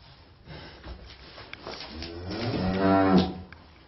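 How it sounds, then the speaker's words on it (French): Cattle low on a farm during an open day in Isère, with calves kept apart from their mothers; a drawn-out, rising moo swells near the end over soft breathing and snorts in a barn. "les vaches avec Philippe"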